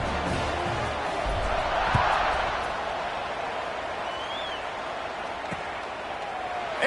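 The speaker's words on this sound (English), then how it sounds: "this crowd is feeling themselves after that last drive." A stadium crowd in the College Football 26 video game roars steadily after a touchdown drive, a broad continuous wash of cheering with a brief thump near the start.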